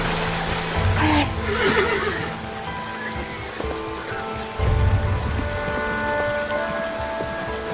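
A horse in the Sakura School Simulator game gives a whinny over steady rain and soft rumbling, the neigh rising briefly early on before the downpour continues alone.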